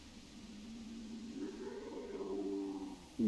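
A cat purrs in the hunting game theHunter Classic, a low steady rumble that builds slightly louder toward the end, with no talking over it.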